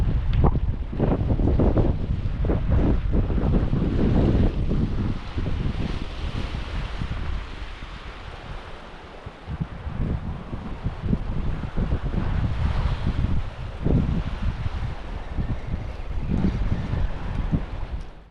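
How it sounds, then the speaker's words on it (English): Strong wind gusting outdoors on the coast of Spain while lure fishing, roaring and buffeting the microphone in uneven bursts with waves beneath, loud and continuous throughout. "Wind's picked up a little bit."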